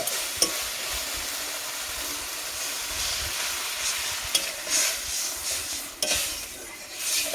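Water hits a hot frying pan of fish curry with pointed gourd and sizzles steadily, with a few sharp surges of hissing and some stirring noise.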